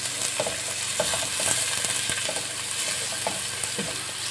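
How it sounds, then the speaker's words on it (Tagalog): Steady, close sizzling of garlic, onion and ginger sautéing in hot oil for chicken biryani, with scattered soft stirring taps over an even frying hiss and no voices. "Nagigisa lang po natin."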